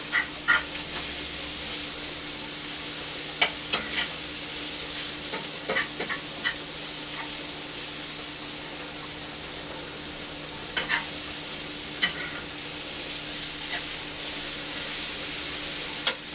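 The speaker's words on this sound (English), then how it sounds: "These onions are cooking down real nice." Onions frying on a griddle for a mushroom swiss bacon burger, a constant close sizzle with scattered spatula taps and scrapes as they are pushed around, no talking.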